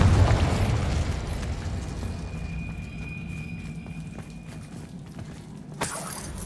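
A Confringo blasting spell explodes in Hogwarts Legacy with a loud booming burst at the start that fades into a long rumble, followed by a sharp crack near the end.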